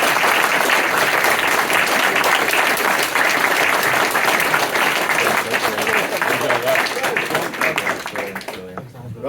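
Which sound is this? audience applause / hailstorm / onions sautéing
audience applause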